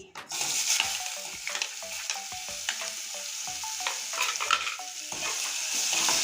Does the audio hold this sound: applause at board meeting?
no